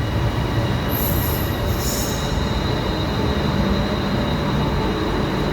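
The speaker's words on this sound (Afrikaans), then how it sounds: "Maar hier is die trein wat ek gaan vat" A train arriving at a Bangkok station, with loud, continuous rumbling rail noise and two high-pitched wheel squeals near the start.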